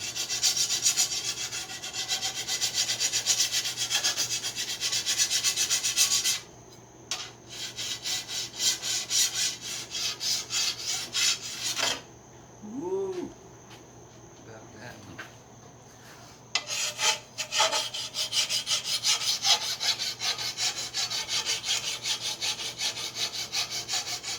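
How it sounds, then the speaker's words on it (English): A tool blade is honed with long, rhythmic rasping strokes, loud and close, broken by a pause with a brief scrape and light knocks before the steady rubbing resumes. "then I'm going to go back with the hone"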